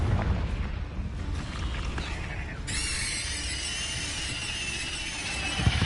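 A Confringo blast spell from Hogwarts Legacy bursts with a booming crackle, then a bright sustained magical shimmer rings on for several seconds, fairly quiet overall with no talk.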